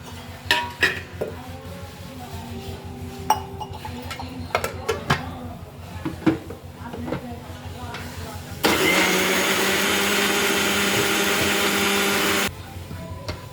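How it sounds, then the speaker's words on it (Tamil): A kitchen mixer whirs loudly for about four seconds, grinding groundnut chutney with coriander and coconut, preceded by clinks and taps of utensils against the jar. "இப்போ கொத்தமல்லியும் தேங்காயும் போட்டு அரைச்சா டேஸ்ட்டு நல்லாயிருக்கும்"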